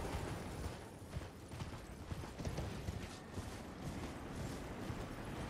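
Horse hooves gallop in Elden Ring, a steady rapid clatter of clip-clopping strides running throughout, close and even, layered with game ambience and no talking.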